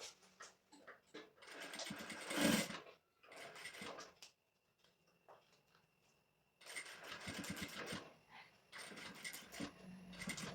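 A sewing machine stitches fabric in short whirring bursts separated by pauses, fairly close and clear, with quiet gaps between runs.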